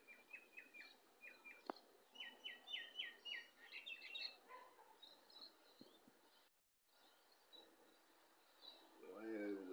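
A small bird chirps outside a window, with quick repeated high tweets and trills that are faint and somewhat distant over a low background hiss.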